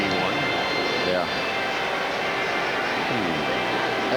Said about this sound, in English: That thing rarely flies this low except when it's landing.